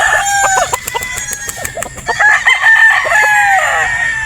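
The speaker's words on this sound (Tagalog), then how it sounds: "Yung mga manok dito sa Green Country Game Farm mga bossing." Gamefowl chickens on a game farm, with a rooster crowing nearby in a long drawn-out call, overlapping other crows and clucks from the flock and a burst of rapid clucking early on.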